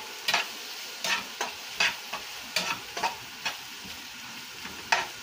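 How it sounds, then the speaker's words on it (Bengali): Spice paste frying in oil for a Vetki fish curry, a soft sizzle broken by repeated rhythmic spatula scrapes against the pan, about a dozen strokes, close and free of speech. "তেলের মধ্যে মশলাটা ভেজে নিলাম"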